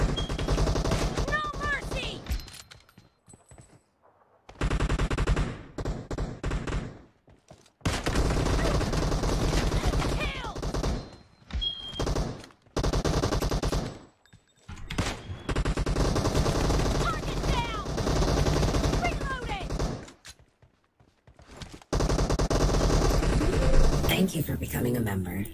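Rapid gunfire bursts from a mobile shooting game, loud and repeated in dense stretches separated by short pauses, with voices talking over the action.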